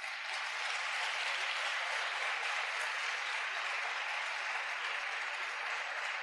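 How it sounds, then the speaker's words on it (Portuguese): A church congregation at a conference applauds, a continuous wash of clapping from a large room, fairly distant and even in level from start to finish, with no voices over it. "Você pode aplaudir ao Senhor por isso?"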